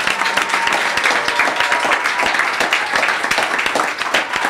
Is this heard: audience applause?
yes